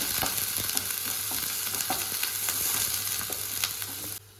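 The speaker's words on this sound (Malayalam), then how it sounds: "ചൂടായ വെളിച്ചെണ്ണയിലേക്ക് കുറച്ച് നീളത്തിൽ അരിഞ്ഞ ചുവന്നുള്ളിയാണ്" Sliced shallots sizzle steadily in hot coconut oil, a continuous close crackle and spit with occasional stirring scrapes, no voices, cutting off abruptly near the end.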